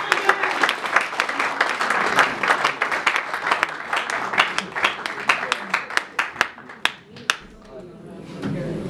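A church congregation breaks into sustained applause and cheering, dense clapping that thins into scattered individual claps before fading, with voices mixed through the crowd noise.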